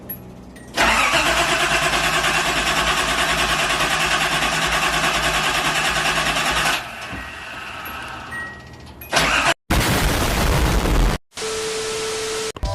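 A Datsun 280ZX with a repaired rusted gas tank cranks for several seconds without catching, a loud, steady churning whir that then breaks into shorter uneven bursts of cranking.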